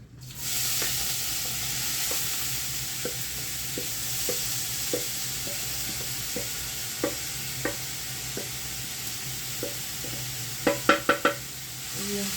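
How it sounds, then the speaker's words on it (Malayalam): Continuous sizzling of mustard seeds in hot oil with scattered sharp pops, a few louder taps and clinks near the end; no voices. "അപ്പോൾ കടുക് പൊട്ടി."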